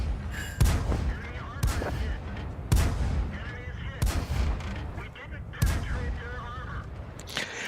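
Rapid-fire tank gun shooting in the World of Tanks video game, heavy booming blasts in quick succession, roughly one each second or so, each with a short echoing tail over background battle noise.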